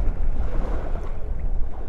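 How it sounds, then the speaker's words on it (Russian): Strong wind at a fishing spot buffets the microphone in a loud, continuous low roar, with no voices. "Сегодня очень сильный ветер."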